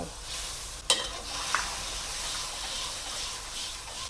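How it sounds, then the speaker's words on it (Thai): Mixed sauce poured into a sizzling pan of stir-fried shrimp and cashews with garlic and water, a steady close hiss of frying with one sharp clink early on and no talk. "เสร็จแล้วการก็จะใส่น้ำซอสค่ะ ที่การผสมไว้ลงไป"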